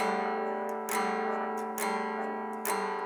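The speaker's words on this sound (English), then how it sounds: "We want it to sound like one chord being played." A sustained guitar chord rings steadily, re-strummed a few times at roughly even intervals, each attack brightening the tone.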